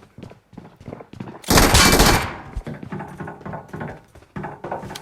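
A loud burst of rapid automatic machine gun fire in a video game erupts mid-clip, surrounded by softer game sounds and scattered thuds, with bright harsh crackle during the burst.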